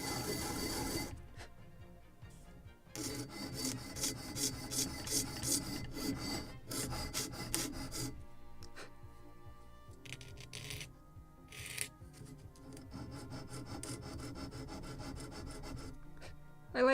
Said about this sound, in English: I like the sander because I can do this, like rotating back and forth.